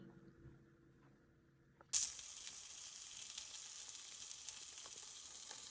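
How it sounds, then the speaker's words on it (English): Sausages for breakfast sandwiches hit a hot pan with a sudden loud sizzle about two seconds in, after a quiet kitchen start, then keep frying in a steady, close hiss with faint crackles. "Making Layla and her boyfriend breakfast sandwiches with sausages"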